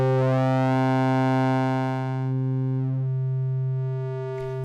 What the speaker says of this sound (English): So there you can see the sine wave coming in.